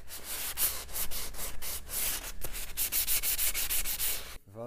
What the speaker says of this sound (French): Vous devez absolument bien poncer les bords